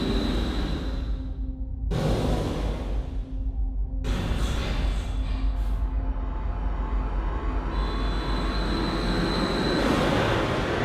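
A roller coaster train on Top Thrill 2 at Cedar Point rumbles along the track during testing with squealing wheels and rattling, passing close with bursts of loud roaring between quieter moments.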